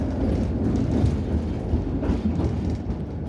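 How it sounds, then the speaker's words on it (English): A tram rolls along its tracks with a loud, dense rumble and low rattling, steady throughout without a clear clickety-clack rhythm and with no voices. "Today I'm taking the tram."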